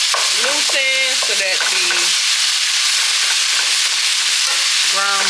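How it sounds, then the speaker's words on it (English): Ground beef frying in a pan for chili, a steady loud sizzle with stirring and chopping, while someone talks over it. "go ahead and chop the ground beef up"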